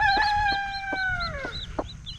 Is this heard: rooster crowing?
yes